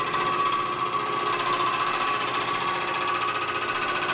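Bowl gouge cutting a wooden bowl on a lathe, with pinecones set in epoxy resin: a steady, loud whirring scrape with a constant hum that carries on unbroken throughout, with no talking.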